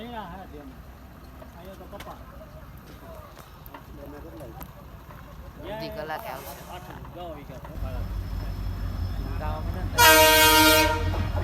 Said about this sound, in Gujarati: હજી ક્રોસિંગ છે ને કઈ અહીંથી ટ્રેન એક આવશે